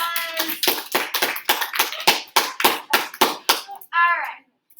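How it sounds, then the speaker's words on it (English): A small class of students claps for a classmate after a physics lab demonstration. The claps are close and distinct in an uneven rhythm, with a voice near the end. "So let's give Sam a round of applause."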